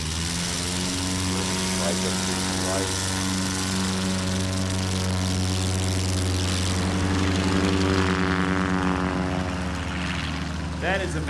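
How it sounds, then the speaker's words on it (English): A tail-wheel propeller airplane takes off at a STOL competition in Gallatin, Tennessee, its engine droning loud and steady throughout, the pitch rising slightly as power comes up, with a voice talking over it. "That is a masterclass in tail wheel takeoff."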